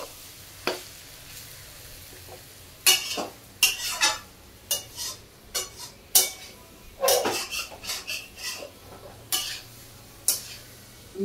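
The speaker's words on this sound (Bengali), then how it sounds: "ওর মধ্যে আলু আর এঁচড়টা একসাথে দিয়ে আরও কিছুক্ষণ ভালোভাবে কষিয়ে নিতে হবে" Potato and jackfruit frying in masala with a low sizzle beneath repeated sharp clanks and scrapes of a spoon against the pot, coming in irregular bursts after a quiet opening.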